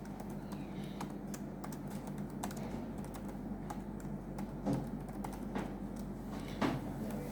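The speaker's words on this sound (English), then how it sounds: "Type in the next line of your address." Typing on a computer keyboard: a steady run of light, quick key clicks at close range, with occasional louder taps, over a faint background hum and no talking.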